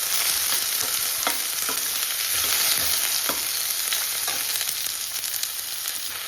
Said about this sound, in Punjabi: ਤੇਲ ਹੋ ਗਿਆ ਗਰਮ ਤੇ ਨਾਲ ਹੀ ਆਪਾਂ ਪਾਤੇ ਪਿਆਜ਼ ਤੇ ਹੁਣ ਆਪਾਂ ਇਹਨਾਂ ਨੂੰ ਚੰਗੀ ਤਰ੍ਹਾਂ ਨਾ ਬਰਾਊਨ ਕਰ ਲੈਣੀ